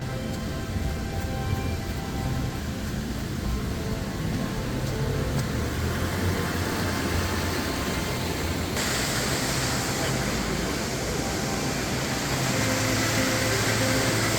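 The Schiessentümpel waterfall in Mullerthal, Luxembourg, roars as a steady broadband rush of falling water that grows louder partway through, continuous and close with no pauses.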